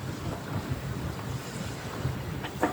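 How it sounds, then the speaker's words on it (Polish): A sailboat runs under sail with a 17-knot tailwind at sea, steady wind and water rushing against the hull with a few louder splashes near the end. "płyniemy na żaglach"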